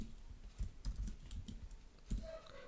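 Keys clatter on a computer keyboard as Python code is entered, in short irregular bursts of clicks with brief pauses, close and fairly quiet.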